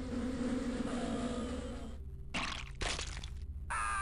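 A swarm of bees buzzes in the video game The X-COM Files, a dense, loud drone that cuts off abruptly and returns in sharp bursts.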